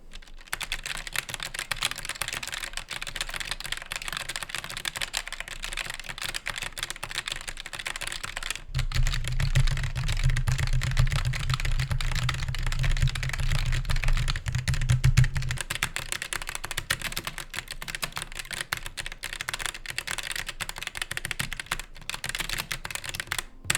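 Steady, rapid keyboard typing runs throughout, with dense clicking keystrokes and a low hum joining partway through.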